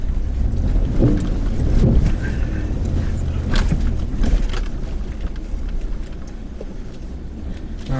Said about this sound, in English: This is the 5 liter, the old Coyote engine.